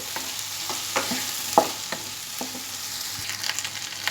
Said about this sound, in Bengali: গ্যাসটা বাড়িয়ে আমি দু মিনিটের মতো কন্টিনিউ নাড়াচাড়া করে সমস্ত উপকরণ ভালোভাবে ফ্রাই করে নেব